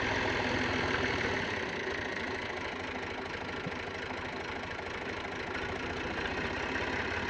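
A Massey Ferguson 135 tractor engine runs steadily while compacting silage, with a loud, even diesel drone and a faint knocking throb that continues unbroken throughout.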